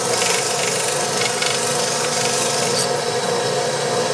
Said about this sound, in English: I'm just gonna get that sanded away right there